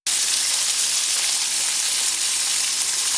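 Chicken pieces browning skin-side down in a pan on medium-high heat: a steady, dense sizzle that runs unbroken and close throughout, with no voices.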